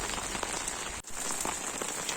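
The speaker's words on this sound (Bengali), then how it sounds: "বৃষ্টি তো বৃষ্টি নয়, একটা মুষলধারে বৃষ্টি হয়েছে।" Heavy torrential downpour drumming steadily on surfaces, a dense continuous hiss of rain close by with no voices.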